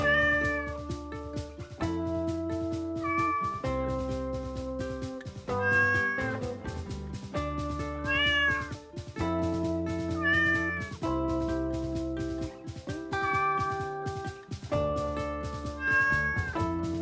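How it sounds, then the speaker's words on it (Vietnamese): A cat meows again and again in clear, drawn-out cries, about one every two seconds, close and fairly loud, while steady tonal music plays under it. "Con mèo. Cat, Con mèo. cat."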